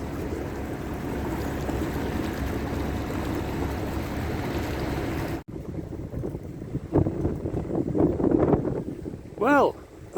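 Steady wind roars against the microphone beside a canal boat under way near Nantwich services, then drops abruptly to a quieter stretch where someone talks over light water and engine rumble.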